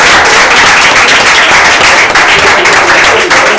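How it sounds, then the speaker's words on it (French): An audience applauds a certificate recipient at a training award ceremony, producing dense, even clapping from many hands that stays loud and unbroken throughout. "Est-ce qu'on peut applaudir pour lui"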